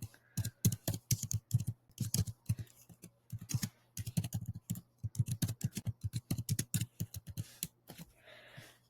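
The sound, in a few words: typing on a computer keyboard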